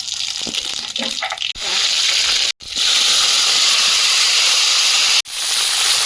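Whole cumin seeds sizzle in hot oil in a wok, a loud steady hiss with a couple of brief breaks and a faint voice near the start.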